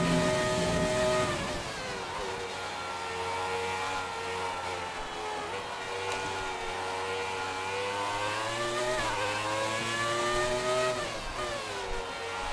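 A 1996 Williams FW18 Formula 1 car in the racing game F1 2019 holds a loud, steady high-pitched engine whine, its pitch rising and falling through gear changes and acceleration the whole way through.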